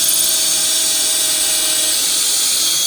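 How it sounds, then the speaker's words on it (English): A power drill bores a pilot hole into a wooden board for a camper storage shelf, giving a steady, loud, continuous high-pitched whine with no pauses and no talking. "then you drill that pilot hole"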